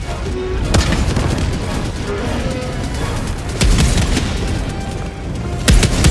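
Rocket fire and booming explosions in the sci-fi shooter Helldivers 2, a steady rumble of battle noise broken by a few sharp blasts near the start, middle and end.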